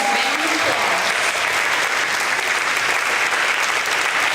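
A school audience applauds first grade award winners at an elementary awards event, steady dense clapping filling the room at a constant level from start to finish with no break.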